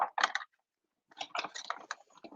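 A Stampin' Up Cut and Emboss die-cutting machine cranks a die through paper: two bursts of ratcheting, clicking gear noise, close and moderately loud, separated by a short silence.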